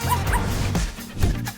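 A puppy yips and whimpers in short, close bursts that repeat steadily, with bow-wow barks and soft whines mixed in, alone with no talk.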